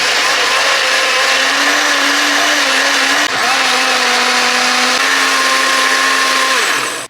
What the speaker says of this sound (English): And then we're just gonna simply blend it up.